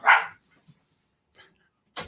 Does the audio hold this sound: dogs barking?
yes